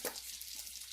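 Butter melts in a hot pan with a steady, close, bright sizzle and fine crackle, lasting the full second with no talk.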